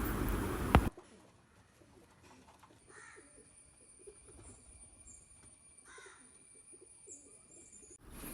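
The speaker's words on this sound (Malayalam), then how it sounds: "അതുപോലെ ഈ കാണുന്ന നാല് ഫാൻസി പ്രാവുകൾ" Four fancy pigeons in Kannur coo softly in short, scattered calls at a moderate distance, following a brief loud knock at the start.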